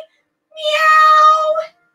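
A child imitates a cat's meow during a kids' yoga class, giving one drawn-out, clear, high meow that rises and fades in about a second, heard alone between silences.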